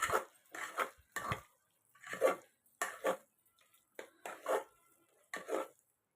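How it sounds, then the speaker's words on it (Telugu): Cooked chana dal being mashed with a ladle inside a pressure cooker: a series of about eight short, close scraping and knocking strokes, each separated by brief pauses, with no talking. "గరిటె తీసుకొని గరిటె ఇలా మొత్తం మెత్తగా చేసుకుందామండి."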